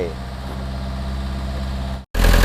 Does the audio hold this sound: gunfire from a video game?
no